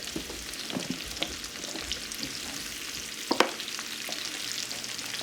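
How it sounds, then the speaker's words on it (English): Whole mushrooms fry in a hot pan with a steady, close sizzle, broken by soft scrapes and a couple of louder knocks as they are stirred around. "And we're going to put the mushrooms in."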